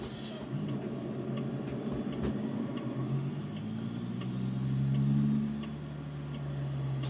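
A Freightliner truck engine drones steadily. Its pitch climbs and swells midway as the driver shifts into fourth gear, then settles, heard from inside the cab with no talking.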